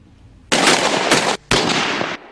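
Two long, loud bursts of sniper rifle fire at target practice, each lasting close to a second and separated by a brief gap, sharp and harsh with no voices.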